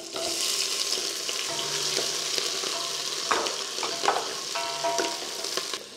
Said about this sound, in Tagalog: Tapos simulan na natin mag-isa ng bawang. Sunod na rin natin yung mga sibuyas.